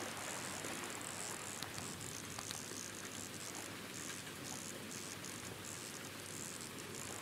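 Rain hisses steadily over an ocean bay in the fishing game Ultimate Fishing Simulator, a soft, even patter that stays constant and fairly faint throughout with no voices.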